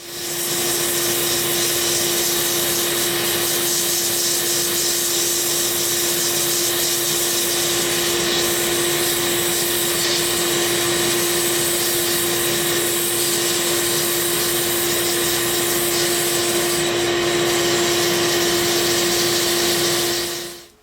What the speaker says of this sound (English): Then we're going to give the whole thing a good sanding.